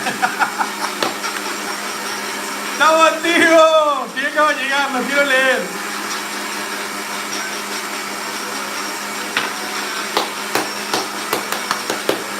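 A blender making homemade Baileys whirs steadily in the background while someone talks excitedly over it, the motor's drone continuing after the voice stops.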